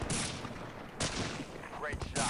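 Rapid bursts of gunfire from a first-person shooter video game, loud sharp shots in quick clusters with brief gaps between them.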